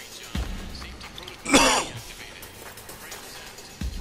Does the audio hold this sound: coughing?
yes